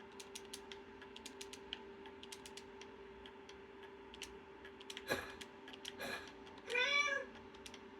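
A Minecraft cat meows twice, fairly close, over a quiet steady hum with scattered light ticking clicks.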